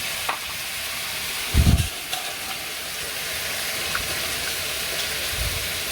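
A bowl that held spice marinade for meat is rinsed with water, giving a steady hiss of splashing water throughout. A brief, heavier splash and slosh comes near the start, with a couple of faint knocks later.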